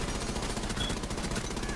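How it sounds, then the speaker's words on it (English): Gunfire in Rainbow Six Siege, a dense, continuous rattle of rapid shots, loud and steady with no pauses. "I can hear their shots pretty loud"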